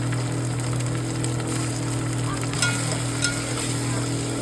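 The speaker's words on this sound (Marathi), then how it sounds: "आता ह्याच्यामध्ये आपण हा टोमॅटो टाकूया." Tomatoes frying in a hot pan for a chicken recipe, a steady bright sizzle with occasional sharper crackles and stirring clicks, close and continuous with no talking.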